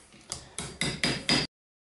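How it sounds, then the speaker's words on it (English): A chisel chips waste out of wood for a bowtie (butterfly key) joint, sounding as five close, evenly spaced sharp taps that grow gradually louder before stopping abruptly. "I'll just chip it out with chisel"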